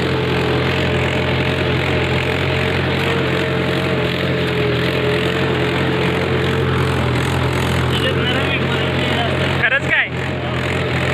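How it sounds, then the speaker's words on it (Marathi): A new tractor's engine idles close by, a steady, low rumble unbroken throughout, with a brief knock or clatter near the end. "नवं ट्रॅक्टर आहे"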